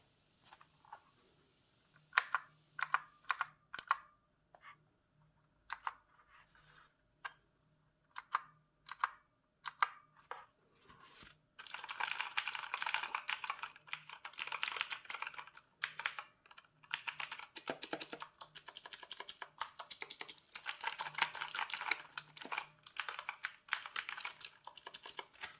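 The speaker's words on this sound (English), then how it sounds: "Now let's hear the keyboard sound." Typing on a Redragon K568 mechanical gaming keyboard, first in sparse separate clacks, then in a dense, fast, continuous run of sharp clicky keystrokes, close and alone.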